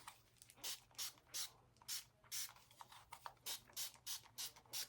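Short broadband bursts of water misted from a spray bottle during a DIY wall decor project, about a dozen quick spritzes in an uneven rhythm, close and moderately loud over a steady low hum, with no talking.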